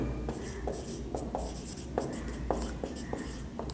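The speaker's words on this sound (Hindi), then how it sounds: "तो लिखेंगे रिफ्लेक्सिव।" Pen strokes writing a word on paper while working through a class 12 maths relations problem, a steady run of short scratchy strokes and taps, close and clear with no talking.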